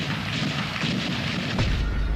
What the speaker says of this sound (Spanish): Ese tiempo de la explosión inicial hasta nuestro ingreso